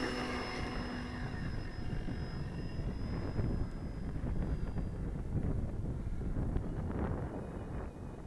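An E-Flite Apprentice S15e electric RC airplane comes in to land outdoors, a steady whining electric motor with propeller buzz holding throughout, partly masked by continuous gusty wind noise on the microphone.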